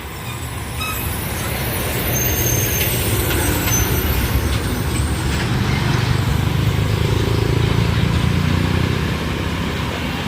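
A heavy Fuso six-by-four truck hauling a heavy load on a hilly road roars past close by, a loud, sustained engine and tyre rumble that swells and holds for several seconds before easing.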